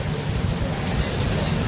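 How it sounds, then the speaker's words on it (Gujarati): Heavy rain pours down under a metro bridge, with water draining off the structure: a dense, steady broadband hiss, loud and continuous throughout. "એટલો વરસાદ છે ભાઈ"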